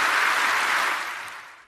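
Audience applause at the Reserve Bank of India's 90th anniversary gathering, a dense, steady wash of many hands clapping that fades out toward the end.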